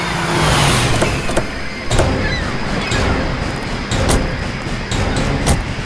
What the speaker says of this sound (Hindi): श्रेया गाड़ी रोको